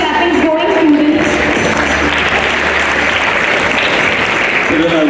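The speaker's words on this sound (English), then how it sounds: "Children, I would like to request a bigger round of applause." A big audience of schoolchildren claps continuously at a Teachers' Day event in Varanasi, a loud, even wash of applause filling the hall, with an adult voice speaking over it at the start and end.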